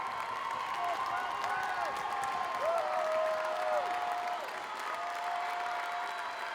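Fans of both teams clap and cheer during a girls' high school varsity volleyball state final between Franklin and Newton North, a steady, distant crowd roar in a gym with a commentator talking over it and whistles ringing out.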